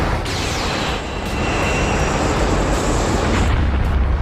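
A deep, rumbling blast from a Godzilla film fight roars on and on, loud and dense, with a whooshing sweep rising over the low thunder like a massive cinematic explosion.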